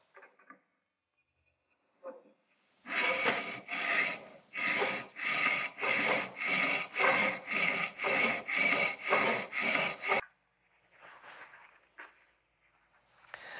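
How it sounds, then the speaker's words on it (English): A blade being sharpened in a sharpening jig, giving about a dozen steady, rhythmic rasping grinding passes back and forth, close and fairly loud, preceded by a few light handling taps and followed by softer scraping. "let's take a couple of passes of this thing and see how much of the Sharpie we managed to grind off."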